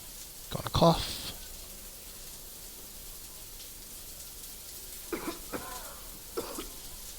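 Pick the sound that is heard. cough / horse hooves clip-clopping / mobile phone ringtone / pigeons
cough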